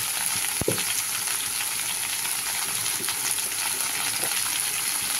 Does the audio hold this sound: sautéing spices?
yes